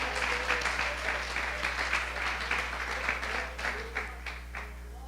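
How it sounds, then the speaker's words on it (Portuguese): Church congregation applauding during a service, a dense wash of clapping hands with a steady low hum underneath, moderately loud and continuous without speech. "Aplauda o Senhor com o seu melhor"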